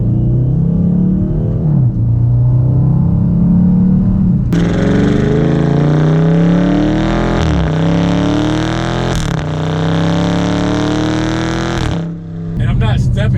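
A Dodge Charger's Hemi V8 rumbles steadily while driving, a loud continuous engine drone with shifting pitch under someone talking throughout.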